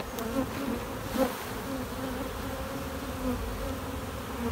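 Honey bees drone steadily around an open hive during an inspection where a smoker is being used, a dense, close buzzing that holds without a break.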